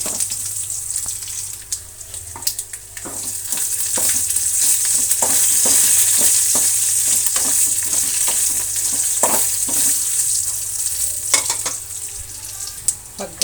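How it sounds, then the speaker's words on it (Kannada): Oil sizzles and crackles steadily in a pan as onions fry for a fish curry tempering, with occasional sharp pops and stirring scrapes, loud and close. "ಈರುಳ್ಳಿ ಕೂಡ ಚೆನ್ನಾಗಿ ಬೇಗ ಫ್ರೈ ಆಗುತ್ತೆ"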